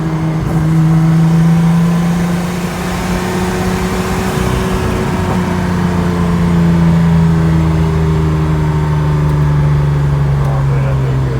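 A Toyota MR2 with a V6 turbo swap driving, its engine a loud steady drone that swells and eases slightly with throttle, close and continuous throughout.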